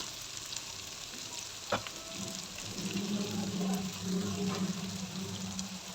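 Ginger sizzles softly in a pan, a quiet steady hiss with a single sharp clink of a utensil and a low hum running beneath.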